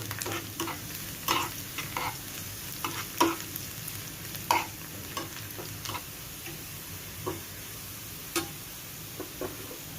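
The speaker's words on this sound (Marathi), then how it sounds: "मी हे तळून टाकणार आहे लसण" Garlic frying in a pan for niger seed (karale) chutney gives a soft, quiet sizzle punctuated by scattered light ticks and scrapes of stirring, close by, with no speech.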